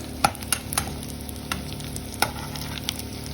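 Meat for adobo frying in a pan until light brown, a steady close sizzle with occasional sharp pops and stirring clicks, no voices.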